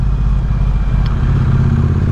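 Triumph Speed Twin 900 motorcycle engine running while riding, a steady low rumble that stays loud and close throughout with constant road and wind noise, and no voices.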